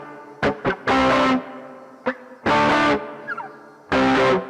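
An electric guitar played through a Valeton GP5 effects unit with reverb on, a few short plucked stabs followed by three long sustained distorted chords, loud and close with reverb tails between them.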